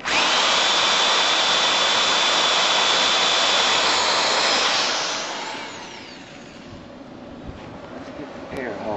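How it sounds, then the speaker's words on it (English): Power drill running a 1/4 inch bit through metal while fixing a garden tiller, loud and continuous for several seconds before winding down; a voice speaks nearby. "Now running the 1/4 inch bit through."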